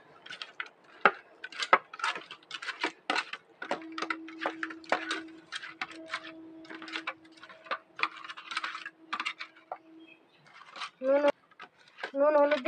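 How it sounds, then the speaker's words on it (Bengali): Pieces of rohu fish being mixed by hand with salt and turmeric powder in a metal bowl, giving soft irregular clinks and wet taps, with someone speaking Bengali throughout. "একটু হলুদ গুঁড়ো দিয়ে দিলাম। এই মাছটাকে মাখিয়ে নেব।"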